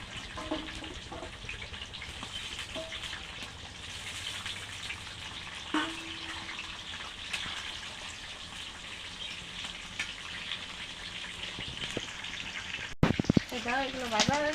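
Raw potatoes deep-frying in a generous amount of oil, a steady broadband sizzle that runs throughout with small crackles and a few louder pops near the end.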